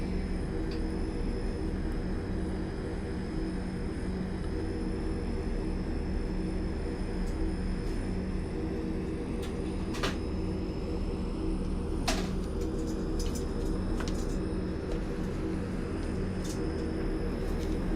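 A TU-114 airliner in the FSX flight simulator game, a steady droning engine roar with a constant hum that stays level throughout, accompanied by occasional faint clicks and no talk.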